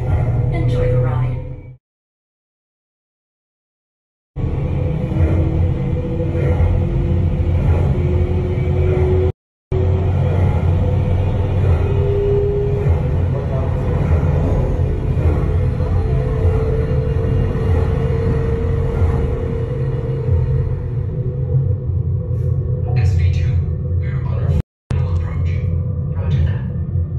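A simulated space elevator ride at Epcot's Space 220 restaurant in Walt Disney World, Florida, gives a steady low rumble under a narrator's voice, with a few abrupt drops to silence.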